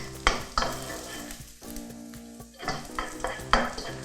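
Salted egg yolk being stir-fried in oil with a spatula or wooden paddle, a steady sizzle with sharp scraping strokes at irregular intervals over soft background music.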